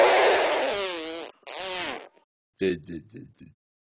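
A long, loud, rasping fart, then a second one, followed by a few short sputtering bursts, all close by.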